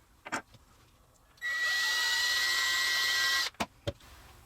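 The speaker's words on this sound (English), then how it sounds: "I want to drill a 3/32 inch hole in each one of these knuckles" Drill boring a 3/32 inch hole in a knuckle piece of a Halloween door decoration gives one steady high-pitched whir lasting about two seconds, close and loud, with small clicks before and after.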